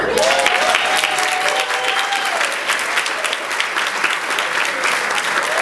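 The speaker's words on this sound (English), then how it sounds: "Let's give them all a big round of applause." A large audience applauds loudly and continuously at a community gathering honoring NAACP board members, a dense wash of clapping, with a brief sustained tone near the start and scattered voices faintly underneath.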